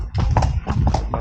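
Horse hooves clip-clop in a steady rhythm as the horse is ridden along a trail at the Matheran hill station, close and fairly loud.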